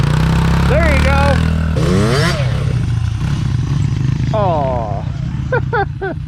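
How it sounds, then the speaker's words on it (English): A dirt bike does a burnout with a loud, continuous, close engine revving and rising in pitch, and people talk over it throughout. "Everybody's addicted to doing burnouts now."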